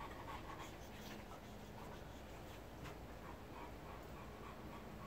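Dogs pant steadily and quietly nearby, a continuous soft rhythmic breathing with a faint whimper now and then.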